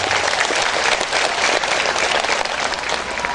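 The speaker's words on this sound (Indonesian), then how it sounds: "Tepuk tangan." Dense, steady applause from a large audience at a communal prayer gathering and religious study event, sustained and evenly loud throughout with no break.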